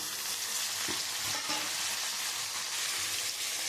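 Shrimp, raisins and cashews sizzle in a hot pan with fried rice, a steady dense frying hiss broken by a few soft low stir knocks, close and alone with no voices.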